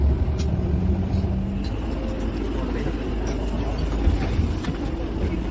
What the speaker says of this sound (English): the cedar tree, and yeah, that's the bus